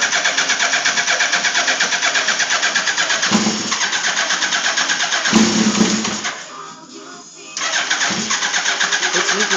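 A blue Suzuki Hayabusa motorcycle engine cranks over and fires, its steady loud idle rumble running throughout, with a brief dip near the end before settling back into the idle.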